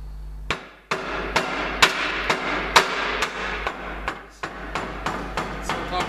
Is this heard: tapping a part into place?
yes